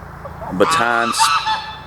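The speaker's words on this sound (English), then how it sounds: "Oh, sorry about the geese." Loud, nasal goose honks sound close by, two harsh calls in quick succession over a steady outdoor background.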